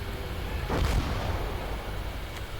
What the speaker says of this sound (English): that certainly was the heavy cannon shooting down